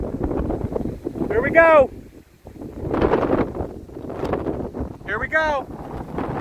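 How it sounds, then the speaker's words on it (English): Strong 75-mile-an-hour winds blowing dust roar and buffet the microphone in loud, surging gusts, while someone speaks excitedly over the rush. "Here's the wind, the 75-mile-an-hour winds."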